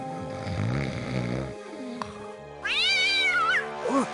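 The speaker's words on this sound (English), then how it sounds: "Who let that blasted cat in here?" A cat in the Titanic-set hidden-object game Hidden Mysteries: first a drawn-out, wavering low yowl, then after a short pause a higher, clearer meow, ending with a brief chirp.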